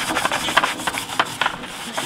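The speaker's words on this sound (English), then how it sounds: "All right, let's do some scraping." Rust being scraped off garden tools, a dry rasping rub of metal against a crusty surface in irregular short strokes, close and moderately loud with no talking.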